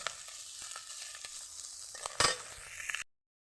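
Small puti fish sizzle steadily in hot oil in a pan, with a louder crackling burst and a scrape as the pieces are turned over, then the sound cuts off.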